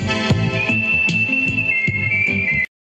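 A sustained whistled melody rides over a dub reggae rhythm with steady bass and drum hits, the whistle line holding long notes before the music cuts briefly to silence.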